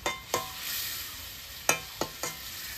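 Chicken filling cooking in a pan, with a splash of water added, gives a soft steady sizzle broken by several sharp stirring scrapes and clatters, close up and with no talking.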